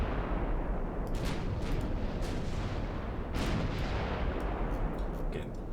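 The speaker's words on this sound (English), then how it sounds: "Guns on the go." Big guns in a 1910s British historical campaign game thunder under a heavy, constant low rumble, with a few distinct booming shots rising out of it at irregular intervals.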